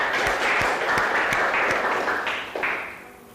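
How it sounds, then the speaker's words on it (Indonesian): Classroom applause during a teaching practice session, a dense burst of many hands clapping that holds steady, then thins and fades out toward the end, moderately loud with no speech. "Kita berikan aplaus untuk kita semua"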